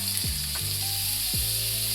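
A heavily garlicked steak sizzles steadily in a hot pan just after being flipped. A loud, close crackling hiss carries a couple of low thumps of the meat settling, and no one talks.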